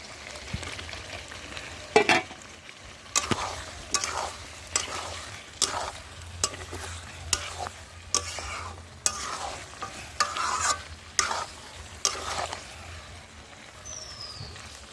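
Chicken pieces and potatoes fry in spiced masala in a pan. A spatula scrapes and stirs them in a steady rhythm about once a second over a constant low sizzle, with no voices.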